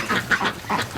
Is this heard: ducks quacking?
yes